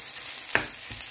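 Minced pork drops into a pan of sautéed garlic and onion, a soft steady sizzle with one sharp clatter midway and a lighter tap near the end, no talking.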